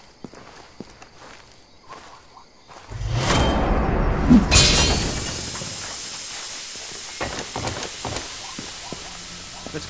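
Gas from a cracked-open tank in Far Cry 2 bursts out in a loud rushing hiss that swells suddenly, peaks, then fades into a lingering softer hiss, preceded by quiet footsteps.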